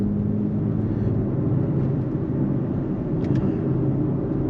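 Steady low engine and road rumble from a BMW X3 M Competition SUV driving in sport mode, heard from inside the cabin as a constant drone with no talking.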